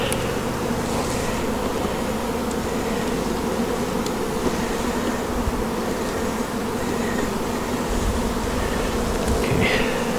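Honey bees swarm and buzz around an opened hive while its frames are inspected, a dense, steady drone that stays loud and close throughout with no talking.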